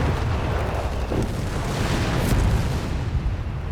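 Continuous rumbling artillery barrage in Company of Heroes 3, dense overlapping booms and blasts forming a loud, sustained roar of volleys.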